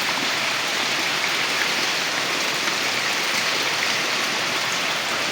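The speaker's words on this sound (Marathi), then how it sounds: "खूप तीव्रता वाढली पावसाची" Heavy rain pours steadily over a home garden, a dense, even hiss of drops on leaves and surfaces, loud and close throughout with no voices.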